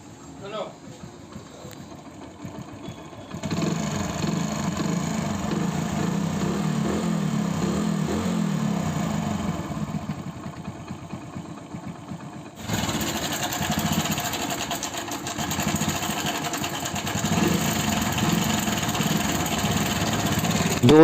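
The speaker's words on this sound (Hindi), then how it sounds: "अब बाइक को स्टार्ट करते हैं, दोनों साउंड आप लोगों को सुनाते हैं।" A Hero Passion Pro motorcycle engine idles steadily after an exhaust fix, a close, even mechanical hum that rises in level partway through as it keeps running, with someone speaking briefly.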